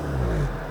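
A 2014 Audi S3 engine on a stock exhaust runs in a short, steady burst, its low, muffled note sitting close and fairly loud, with a slight swell midway before settling back.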